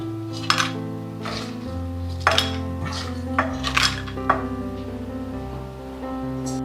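Fried chillies being scooped from a pan with a metal spoon after the gas is switched off, giving several separate clinks and scrapes of metal on the pan at close range with no talk.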